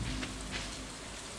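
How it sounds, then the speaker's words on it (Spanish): Steady rain falls in the Stardew Valley farming game, a dense, even hiss of drops with a couple of brief brighter swells, no voices. "Buena noticia es que está lloviendo"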